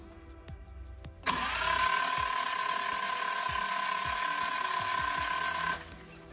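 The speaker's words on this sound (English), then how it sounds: "I'm going to run the starter motor again. It should engage the flywheel." A starter motor cranks, spinning the flywheel and transmission on an engine fitted with a homemade adapter plate, after a few sharp clicks; a steady whirring drone holds for about four and a half seconds, then cuts off.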